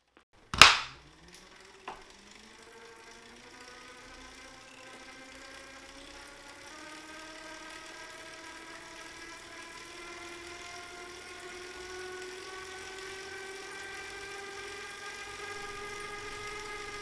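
A Wahoo KICKR Gen 3 smart bike trainer spinning at 200 watts in erg mode on the big ring: a sharp knock at the start, then a steady rising whine with layered tonal hum that holds on alone, with no talk.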